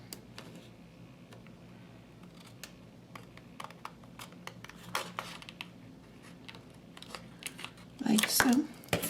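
Scissors snipping along a line through a clear plastic planner dashboard, a series of crisp close cuts with quiet rustling and a brief burst of handling noise at the end, no talk.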